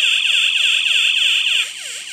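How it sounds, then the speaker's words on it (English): A SecuRam ProLogic L22-L66 safe lock's maximum door-open-time alarm blares with a rapid warbling, pulsing tone; a piercing high note drops out partway while the warble continues. "It's a very loud alarm."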